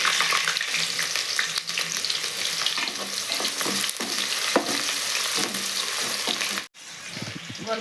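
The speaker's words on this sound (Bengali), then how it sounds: "তেল গরম হয়ে গেছে, পেঁয়াজের ব্রেস্তাটা আগে ভেজে নেব।" Sliced onions fry in hot mustard oil for chicken biryani, giving a loud, steady sizzle up close that is broken briefly by a short drop near the end before the hiss resumes.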